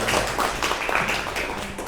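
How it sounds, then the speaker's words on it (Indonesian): An audience claps in a short burst, a close, busy patter of hands with faint voices mixed in. "Beri tepuk tangan dong"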